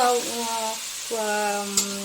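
Ground spices, chilli and ginger mixed in water tip into hot oil for a Gobindobhog rice, prawn and pointed gourd dish, a loud close sizzle with steady crackling and tonal hums underneath, one sharp clink near the end.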